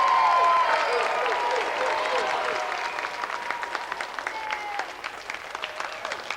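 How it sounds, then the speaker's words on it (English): A TV studio audience claps loudly at first, then the applause thins into scattered claps and fades, with a few cheers early on. "So let's have another round of applause for Carl Lewis, Colin Jackson, Linford Chris"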